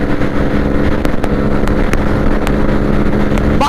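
Hero Xtreme 125R and TVS Raider 125 motorcycles racing side by side at full throttle in fifth gear, a loud continuous engine drone with wind rush, close and unbroken, with no talk over it.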